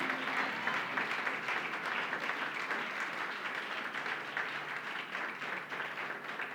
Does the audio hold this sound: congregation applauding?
yes